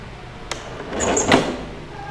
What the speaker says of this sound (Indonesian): Maka pintu gerbang sudah tertutup.